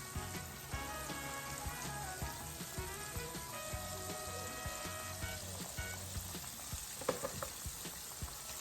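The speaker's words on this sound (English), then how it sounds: "And we're going to let them fry on each side for about 2 minutes." Chicken livers frying in a pan on a stove turned between medium and high, a steady close sizzle with scattered pops and crackles throughout.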